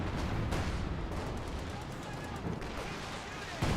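Artillery shelling in Company of Heroes 2, a dense continuous rumble of explosions and gunfire with distant booms, under a commentator's voice.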